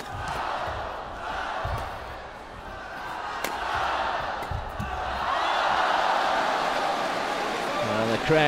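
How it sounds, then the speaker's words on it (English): Spectators at a Sudirman Cup badminton match between China and Germany roar as a rally unfolds. The crowd noise swells steadily under a commentator's voice, and shuttle strikes punctuate it near the end. "Crowd getting involved in that rally"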